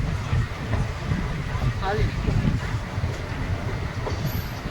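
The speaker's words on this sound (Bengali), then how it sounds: "কাটোয়া স্টেশন থেকে ট্রেন ছাড়ার কিছুক্ষণের মধ্যেই ট্রেন অজয় নদ পার করতে চলেছে" The Katwa–Nimtita passenger train rumbles across the Ajay river bridge just after leaving Katwa station, a steady heavy rolling roar with wheel clatter and a brief thin squeal, heard from inside a carriage with voices under it.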